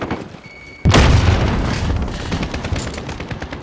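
Grenade explosion in the video game Modern Warfare: after a quiet moment, one loud, sudden boom hits and then decays into a rumbling tail, with faint gunfire crackle in the background.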